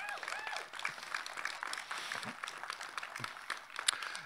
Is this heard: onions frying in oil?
no